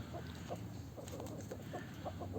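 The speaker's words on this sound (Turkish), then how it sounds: "İşte genç bir tavuk daha." Young Buff Sussex chickens cluck softly in short, repeated bursts against a steady background hum, with no voices.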